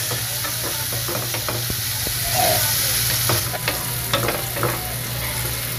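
Garlic sizzles loudly in a pan for a sweet and sour pampano dish while a spatula stirs it, with repeated scraping strokes and clicks over a constant hiss and a low steady hum.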